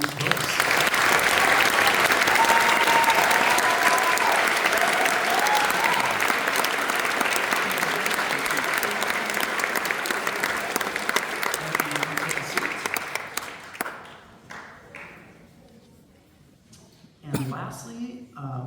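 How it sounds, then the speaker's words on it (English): Long, loud audience applause for honorable-mention high school band groups at a senior band awards event, dense clapping that gradually thins and fades, followed by a few scattered claps and brief voices. "So let's give a round of applause for all these folks."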